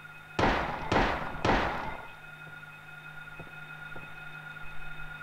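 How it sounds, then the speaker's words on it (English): Three booming gunshots fire at a monster in the Silent Hill video game, spaced about half a second apart and each trailing into a long echo, followed by a low ambient hum and faint distant thuds. "There's a monster over here, so I'm gonna shoot him."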